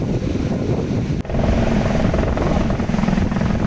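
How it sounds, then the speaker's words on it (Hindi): Loud, continuous rotor thrum of a helicopter close by, with a brief dip partway through and wind noise mixed in. "वो भी हेलीकॉप्टर लैंड हुआ और उतरते ही बस 2 बंदे थे और वापस चला गया।"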